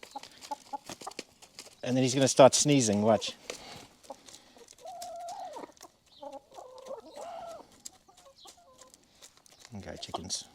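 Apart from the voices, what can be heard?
chickens clucking on a farm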